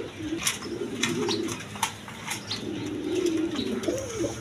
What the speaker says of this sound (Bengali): দর্শকবৃন্দ, এখানে এক পেয়ার ডেনিশ কবুতর আছে 3 পটি লাল গিয়ার